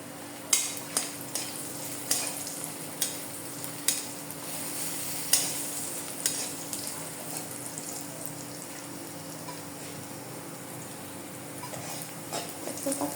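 Boiled potatoes for Bangladeshi aloo vorta frying in a pan, with a steady sizzle and regular spoon scrapes and stirs ticking through it, loudest early on and easing later; no one speaks.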